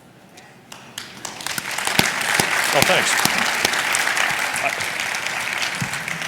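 Conference audience at a climate cities session bursting into applause mid-speech, scattered claps building quickly into sustained, full clapping, with a speaker briefly talking over it.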